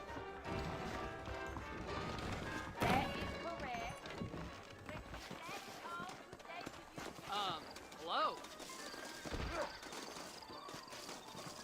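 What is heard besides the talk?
horse hooves clip-clop, from video game Red Dead Redemption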